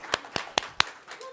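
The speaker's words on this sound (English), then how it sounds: "clap your hands" Four crisp hand claps in an even rhythm from children at a Sunday service, sharp and close with short gaps between them.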